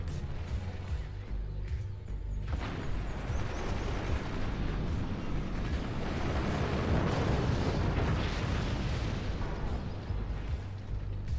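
In a video game battle, warheads explode in a continuous, rumbling roar that holds steady and fairly loud throughout, with a sharper burst near the start and no voices.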